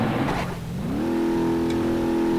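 A simulated car engine in the BeamNG driving game, stuck in neutral with a busted driveline, dips briefly, then revs up and holds a loud, steady, high drone with no one talking.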